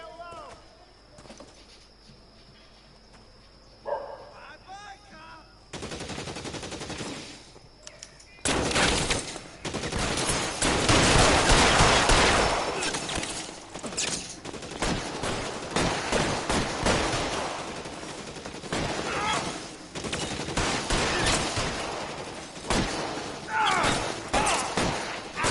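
Gunfire in a bank robber shootout from a video game erupts after a quieter opening, with dense bursts of shots and loud battle noise continuing under people talking.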